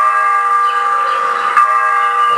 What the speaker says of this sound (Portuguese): E o sino? Te lembra alguma coisa?